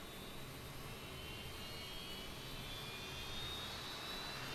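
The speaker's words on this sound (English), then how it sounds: "the engine sounds on the outside are a lot quieter" Jet engines of a C-17 Globemaster III in Microsoft Flight Simulator give a steady, faint broadband roar heard from outside the aircraft, with a thin high whine running continuously and no talk.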